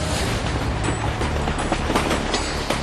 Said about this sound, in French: Les campagnes résonnent maintenant du fracas des trains.